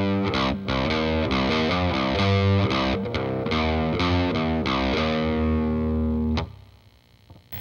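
Distorted electric guitar plays a riff slowly, with chugging open-string notes and short fretted runs in a measured rhythm. A final chord cuts off near the end, leaving near silence, and no one speaks.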